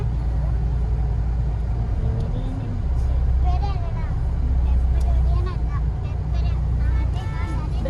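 Taxis and other vehicles drive past near Abbey Falls, a steady roar of engines and tyres with low rumble throughout, swelling as vehicles pass close, while people talk over the traffic.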